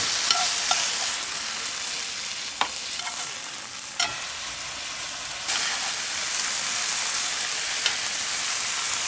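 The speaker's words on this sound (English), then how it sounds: "Since this is super thin beef, you don't really need to cook it too long" Super thin beef fries in a pan inside a van parked by a lake, giving a loud continuous crackling sizzle with a few sharp utensil clacks and the spitting briefly swelling louder partway through.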